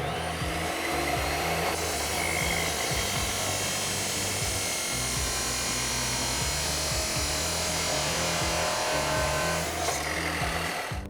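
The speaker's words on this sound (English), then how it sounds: "we're now over at our chop saw and we've got this locked into place and lined up, and we're gonna cut this down to size" A chop saw cuts an exhaust mid pipe to length for a 2021-2025 Ford F150 Roush single exhaust system, a loud continuous motor whine and grinding rasp held steadily close throughout, with no talk.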